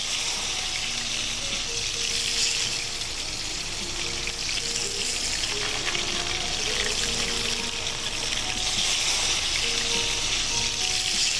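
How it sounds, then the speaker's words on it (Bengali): Koi fish coated in salt and turmeric sizzling steadily in hot oil in a pan, a continuous bright crackle with scattered pops and no talk. "নুন হলুদ মাখানো মাছটা আমি তেলে দিলাম"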